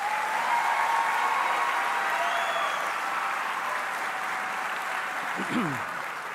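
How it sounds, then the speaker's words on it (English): A graduation audience at the Sunburst Youth Academy ceremony gives a round of applause, an even wash of clapping that holds steady, with a faint tone and a short voice near the end. "Let's give her one more round of applause"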